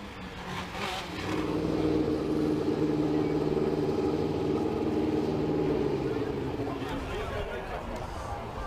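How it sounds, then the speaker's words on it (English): A classic Formula One car engine runs at a kart track, a loud sustained roar that rises after a moment, holds steady, then eases off, with crowd noise in the background. "enjoy the sounds of this classic Formula One car"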